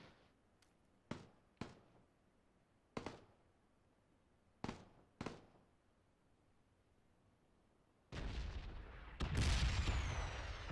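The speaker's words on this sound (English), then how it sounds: "there's bombs coming here" Bombs from a bombing zone in PlayerUnknown's Battlegrounds explode as a series of sharp booming blasts with decaying rumbles, about seven spaced out, then a dense, louder roar of overlapping explosions at the end.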